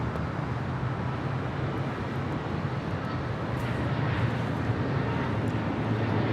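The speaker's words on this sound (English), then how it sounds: "This is Spirit Airlines 1349 coming in from Oakland on an A320." A Spirit Airlines Airbus A320 arrives at Los Angeles International Airport with a loud, steady, broad jet roar that holds evenly throughout, with no voices over it.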